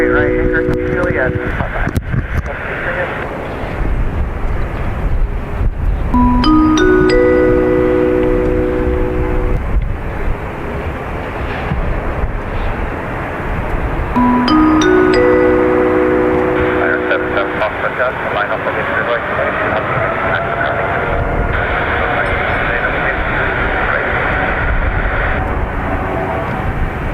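A jet takes off from runway 28 right at Dublin Airport, its engines roaring steadily in the distance while tonal chimes sound and voices talk over the continuous rumble.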